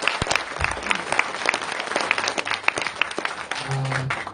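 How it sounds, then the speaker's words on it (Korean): An audience at a Korean political talk event applauds loudly and steadily, dense clapping throughout with a few sharper claps standing out. "여러분 박수 한번 다시 보내주시겠습니다."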